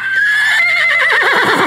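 A horse whinnies loudly, its rising then wavering, quavering neigh filling under two seconds with no talk, set among riders at a stable.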